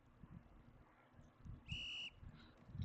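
In a college football video game broadcast, a referee's whistle gives one steady shrill blast lasting about a third of a second, fairly clear over low crowd rumble and ambient game noise.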